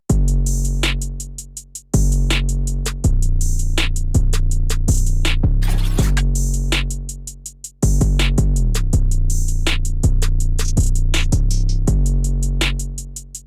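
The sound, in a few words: full drum pattern of the beat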